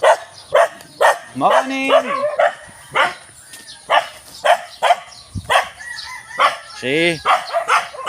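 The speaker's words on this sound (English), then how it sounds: "Because there's a lot of dogs." Several dogs bark repeatedly in a Philippine barangay, sharp yips and barks close by with some whimpering, while people exchange brief greetings and talk over them.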